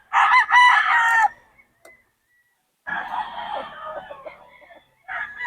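Three-year-old roosters at a game farm crow loudly and nearby, with one long cock-a-doodle-doo, a pause, then another crow and a third starting as the clip ends.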